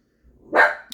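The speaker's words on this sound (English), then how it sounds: "What you barking for?" A dog gives one short, sharp bark close by, standing alone against near silence.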